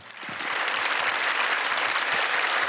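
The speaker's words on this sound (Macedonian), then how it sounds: "Може аплауз." An audience applauds at the Ohrid Fest pop evening, a festival in Ohrid, clapping swelling quickly into a dense, sustained roar of many hands that continues without talk.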